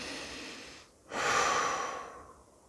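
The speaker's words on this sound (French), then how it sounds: "Je respire." Breathing during a guided meditation practice: a soft exhale fades to a brief pause, then a long, fuller breath rushes in and slowly trails off, close and alone without speech.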